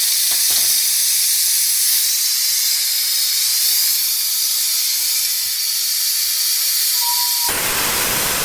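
A one-handed pressure cooker vents steam through its turned release valve in a loud, steady, continuous hiss that runs unbroken and alone before shifting tone near the end.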